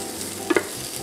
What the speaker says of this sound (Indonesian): Biar harum ya, kita goreng sebentar.